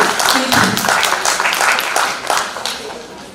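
An audience applauds at a leadership forum at Gauhati University, a dense steady patter of many hands clapping close and loud for over three seconds with voices mixed in.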